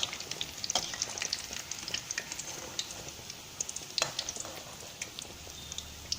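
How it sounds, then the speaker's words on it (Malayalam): Steady crackling and popping of onion fritters frying in hot oil, with constant bubbling and sharp spits throughout. "മറു സൈഡും വെന്ത ശേഷം നമുക്ക് വറുത്ത് കോരാവുന്നതാണ്"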